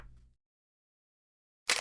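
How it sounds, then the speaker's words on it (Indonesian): A short, bright rustling flick of a paper page turning, alone and close, after a brief low thump at the start and a stretch of silence. "Suara halaman kertas."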